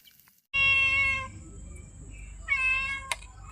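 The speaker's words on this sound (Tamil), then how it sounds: "அதில் எங்கள் வீட்டு பூனை முதக்கொண்டு வந்துருச்சு" A house cat meows twice up close, loud and drawn out with a pause between, near freshly fried fish caught in a cast net; no one speaks.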